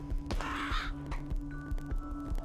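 Crows caw repeatedly in the video game Donut County, a couple of harsh calls over a steady low hum and rhythmic thumps of game sound.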